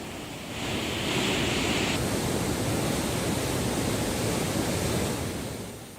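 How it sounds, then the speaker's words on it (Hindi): Water gushes through two opened gates of the Kota barrage on the Chambal river, releasing around 5000 cusecs during heavy monsoon rain, a loud, steady roar of rushing flow that holds unbroken throughout. "आज 5000 क्यूसेक पानी की निकासी बैराज के 2 गेट खोलकर की जा रही है।"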